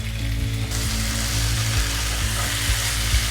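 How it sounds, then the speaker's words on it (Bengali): Fried potatoes and peas being sautéed in masala in a pan, a loud continuous sizzle with occasional scraping stirs, close up and without speech. "আমি মশলাটার সঙ্গে বেশ করে আলু আর মটরশুঁটিটাকে কষিয়ে নিচ্ছি"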